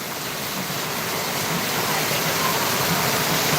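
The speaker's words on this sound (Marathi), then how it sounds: "दाखवतो तुम्हाला आमच्या इथला पाऊस दाखवतो" Heavy monsoon rain pours down in a steady, dense roar, loud and unbroken throughout, like rushing water close by.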